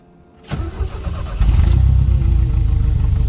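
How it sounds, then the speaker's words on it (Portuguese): A supercharged Chevette engine cranks and catches, then settles into a loud, steady rumbling idle close by. "vedei tudo, vou ligar o carro."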